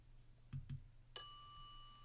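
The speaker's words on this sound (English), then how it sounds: "Come on, I want to use the bell." A bell rings in the point-and-click adventure game The Secret of Monkey Island: two quick soft taps, then a bright sustained chime that rings out and fades over about a second, with faint room noise.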